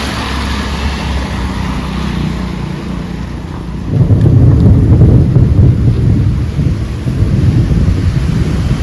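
Night rain with rolling thunder over a road, a steady broadband wash that swells noticeably louder midway with a deep rumble, then eases slightly, with no voices.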